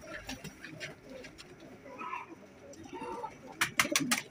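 A pair of golden Rampuri pigeons coo in soft, repeated rolling phrases at close range, followed by a few sharp flutters or taps near the end.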